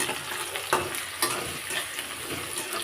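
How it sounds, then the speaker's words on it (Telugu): Onions with green and dried red chillies fry in a pan for a thotakura curry, a steady close sizzle broken by several clattering stirs, with no talk. "ఇది ఒకసారి కలుపుకుందాం కొంచెం వేగాలి కదా మరి"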